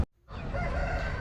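A rooster crows loudly and close by in one sustained call, following a brief moment of quiet.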